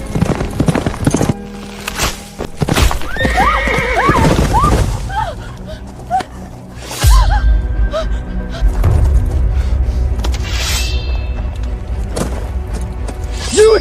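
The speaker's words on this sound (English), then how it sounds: "Fetch me a horse!" Horse whinnying loudly with hooves clip-clopping in a costume-drama setting, several rising-and-falling neighs early on over steady hoofbeats, with thuds and a busy commotion continuing throughout.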